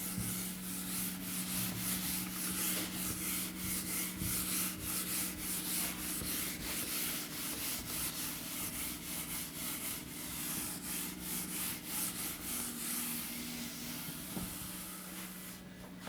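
Steady rubbing of an eraser or duster across a classroom board, a continuous scrubbing sound with rapid strokes throughout, close and moderately loud, with no talking.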